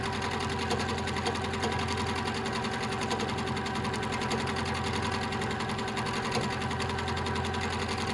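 A sewing machine runs steadily through free-motion doodle quilting, its needle chattering in a fast, even, continuous rhythm close by, with no talking.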